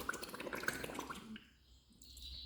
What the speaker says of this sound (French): on va inspirer par la bouche et ensuite on va faire des petites bulles